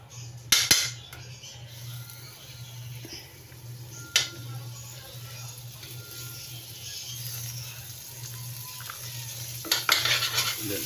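Chili, garlic, onion and ginger sauté in margarine in a pan, making a low steady sizzle with a few sharp utensil clinks against the pan and a faint background hum.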